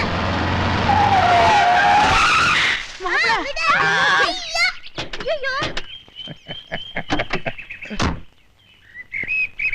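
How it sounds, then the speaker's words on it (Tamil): A diesel car races against other cars with tyres skidding loudly, long screeching squeals followed by sharp bursts and chirps, while people shout and talk excitedly over the engine noise. "என்னடா டீசல் வண்டி ஜெயிக்காதுன்னு பாத்தியா சுந்தர்?"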